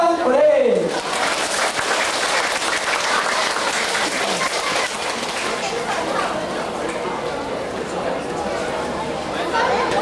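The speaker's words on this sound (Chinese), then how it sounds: "掌声鼓励" A crowd claps loudly after a choir sings a Chinese hymn at a Mother's Day church gathering, with steady applause mixed with audience chatter throughout.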